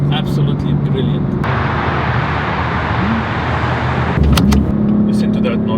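Steady engine drone and exhaust note of a BMW M4 Competition heard from inside while driving, with a brief rise in revs near the end and someone talking over it.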